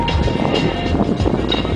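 Six L-39 jet aircraft fly in tight aerobatic formation at the MAKS 2015 airshow, giving a continuous, broad engine roar that fills the whole moment without any break.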